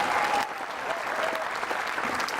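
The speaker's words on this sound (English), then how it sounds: "And Lisa Phillips applauds her opponent." A crowd applauds a good shot in a women's singles lawn bowls final, a brisk, fairly loud wash of clapping from spectators that holds steady throughout.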